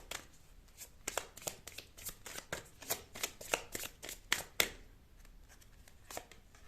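A deck of tarot cards is shuffled by hand at close range, producing quick crisp riffles and snaps in an uneven rhythm for several seconds, quiet and without speech.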